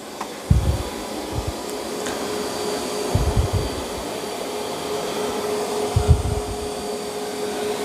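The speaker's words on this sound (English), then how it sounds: "Okay, so the Dreame is on standard. Let's go to strong. And it's on turbo mode now." Dreame D10 Plus robot vacuum running on turbo mode, a steady whirring drone with a few low bumps and thuds as it moves about, and no voices.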